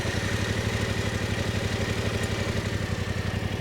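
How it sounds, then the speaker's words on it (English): A motorcycle engine idles steadily in neutral, a close, loud, even low-pitched chug with a rapid regular pulse that holds throughout without revving. "Starting the bike is as easy as turning on the ignition"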